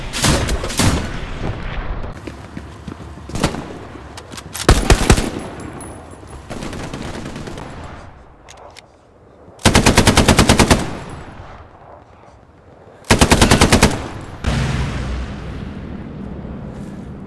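Gunfire in the Hell Let Loose shooter game: loud automatic bursts and single sharp shots come in separate volleys with quieter gaps between them and distant rumbling booms, all close and without speech.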